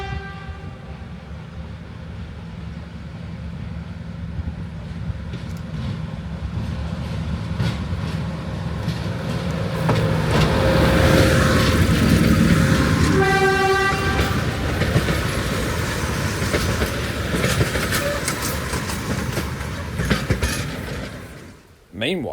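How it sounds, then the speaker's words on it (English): A 1971 Y6 locomotive hauling three passenger cars rumbles steadily past on Tasmania's Don River Railway with a rising mechanical roar and rhythmic clatter, a horn sounding briefly in the middle, loud and close. "Y6, built in 1971, is hauling the last train of the day with 3 green Suburban cars"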